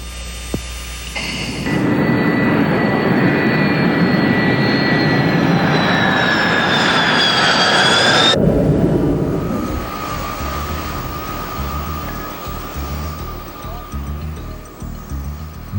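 An F-18 Hornet jet fighter roars loudly overhead with a rising, whining engine pitch that cuts off abruptly partway through, leaving a lower, steadier hum to the end.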